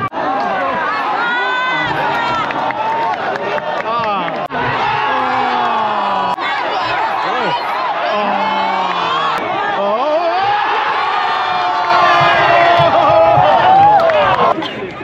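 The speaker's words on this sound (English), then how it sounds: "They all go crazy and have a good time and scream around" A large crowd of Manchester United football fans at a night match in Bali cheers, screams and chants continuously, loud and dense, with shouting voices throughout.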